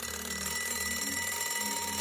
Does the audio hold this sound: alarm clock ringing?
yes